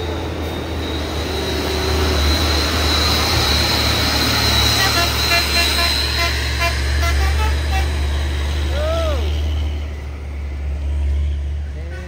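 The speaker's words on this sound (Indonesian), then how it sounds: "Truk-truk besar menanjak dan menurun." Heavy trucks laboring up and rolling down a steep, busy hill road in Indonesia, a steady loud low engine drone with passing traffic and a brief horn toot, continuous throughout.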